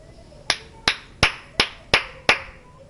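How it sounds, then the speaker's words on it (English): Six loud, sharp hand claps, evenly spaced about a third of a second apart, each with a short ringing decay over a quiet background. "Hey, did you not have a loud clap?"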